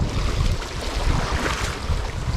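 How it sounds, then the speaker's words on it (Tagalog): Large waves roll and wash against the shore beside houses, a loud, steady surf rush with wind buffeting the microphone. "Malaking alon."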